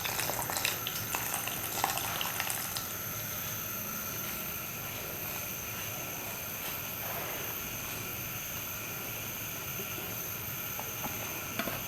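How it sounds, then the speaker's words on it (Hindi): Milk mixed with custard powder comes to a boil in a pot on the stove while being stirred for a mango dessert, giving a steady, continuous hiss and bubble with no voices. "ये देखिए दूध को उबाल आने वाला है, इसमें हमने कस्टर्ड पाउडर जो घोल के रखा था वो डाल दें"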